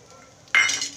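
Spoon stirring Gujarati lilva kachori stuffing of green pigeon peas in a pan on the stove, heard as a sudden close scrape and clink of metal halfway through that lingers briefly before fading.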